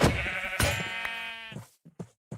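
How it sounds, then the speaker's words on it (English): Sheep bleating in the video game Minecraft, two drawn-out wavering bleats close together and fairly loud, followed by a few soft clicks and near silence. "here's some sheep."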